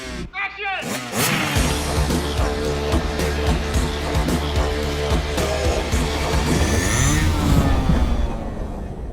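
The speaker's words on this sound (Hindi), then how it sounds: "उसका ट्रैक्टर भी अंदर आ गया है।" A tractor engine revs loudly and steadily throughout, its continuous mechanical drone running without a break, with voices talking over it.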